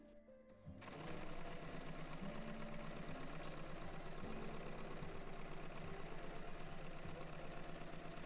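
A sewing machine runs steadily, stitching around the edge of a fabric bolero, starting after a short pause and keeping a fast, even mechanical hum and rapid needle clatter close by with no talk.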